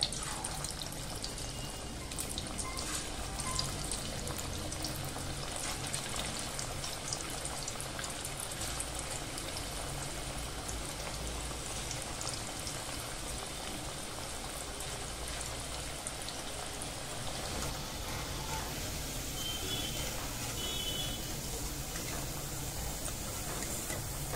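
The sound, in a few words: frying masoor dal onion bhaji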